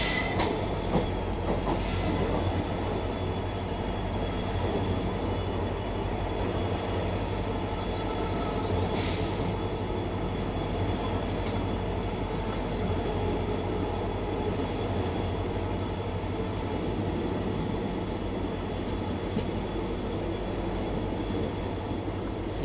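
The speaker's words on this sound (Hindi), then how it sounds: "ICF के ट्रैक साउंड अलग ही लगते हैं यार" An Indian Railways train of ICF coaches runs on the tracks near Alwar, its steady rumbling roll heard from inside with continuous wheel noise, faint squeal and occasional clatter.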